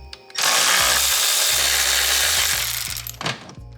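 A power tool whirs steadily for about two and a half seconds, close and loud, while removing strut bolts during a DIY coilover install on a 2022 Tesla Model Y. It winds down into a few clanks and a short burst.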